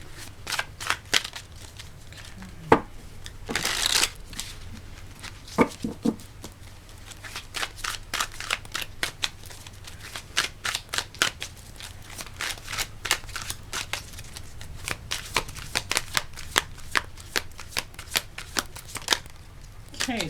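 Tarot cards are shuffled by hand in close, crisp bursts of riffling and snapping, repeating in quick irregular runs over a quiet background.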